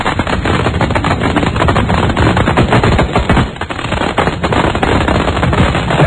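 A long string of firecrackers at a fireworks show crackles in a loud, dense, rapid volley of pops like machine-gun fire, continuous for about six seconds with no talking.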